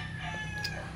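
A rooster crows nearby on a rainy day, one brief, loud call heard over a steady low background rumble.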